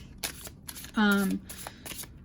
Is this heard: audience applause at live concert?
no